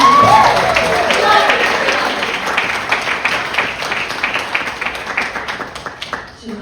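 Wedding guests applauding in a steady, dense round of clapping that is loud at first and gradually thins and softens toward the end.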